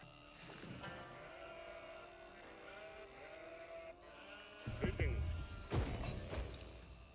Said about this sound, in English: Got a lot of sheep this time,